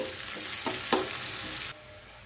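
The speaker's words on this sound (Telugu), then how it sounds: "ఇక్కడ నేను ఆనియన్ కరివేపాకు అలాగే ఎండుమిర్చి యాడ్ చేసుకుంటున్నాను ఇవి బాగా ఫ్రై అయ్యేంత వరకు మనం ఫ్రై చేసుకుందామండి" Onion, curry leaves and dried red chilies frying in a pan, a soft sizzle with a few brief stirring scrapes that cuts off abruptly near the end.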